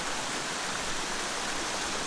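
A mountain waterfall rushes in a steady, dense broadband hiss, close and constant without any break.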